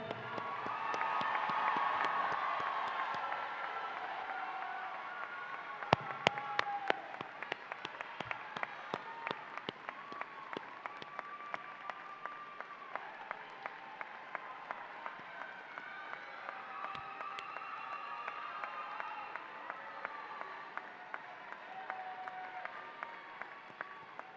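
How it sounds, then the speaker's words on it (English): An audience at a career and technology center graduation ceremony gives sustained applause, with a dense wash of clapping from many hands that swells early and then continues steadily across the hall, joined by a few sharper, closer claps. "Let's continue to give them a round of applause."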